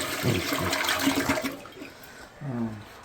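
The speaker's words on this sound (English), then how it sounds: "Flushing good." A newly installed toilet flushes nearby, a loud rushing swirl of water that drains away, then a short gurgle of the refill near the end.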